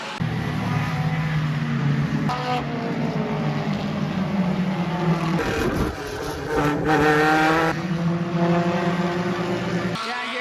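Race cars roar around an oval track at Delaware as the leader swings high through lapped traffic running three wide, a loud, steady engine drone that rises and falls as the cars pass, with commentary over it.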